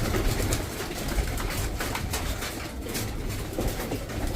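Pigeons coo steadily at a pigeon nest with chicks and eggs, a soft, continuous murmur of low cooing close by, with no talking.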